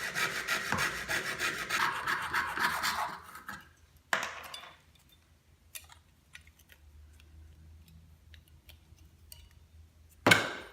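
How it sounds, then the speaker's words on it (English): A jeweler's saw cuts hard plastic with quick rasping strokes for about three seconds, then a few isolated scrapes and taps, ending in a brief loud rub, close and without voices. "Those are going to get cut out with my jeweler's saw"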